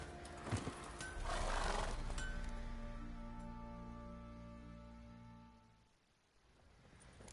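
Roach, a horse in a video game, whinnies loudly and close, with a rising then falling neigh, as hooves clip-clop underneath and fade toward the end.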